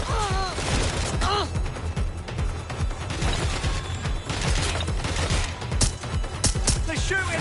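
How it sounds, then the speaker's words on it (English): Gunfire in the western game Red Dead Redemption crackles in rapid, uneven shots throughout, with people shouting over the shooting. "They're shooting at us!"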